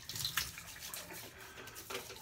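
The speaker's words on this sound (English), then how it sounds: "Let me wet my face." Tap water runs and splashes as a face is wetted before a shave, brief soft gushes and splashes heard close but fairly quiet, with no talking.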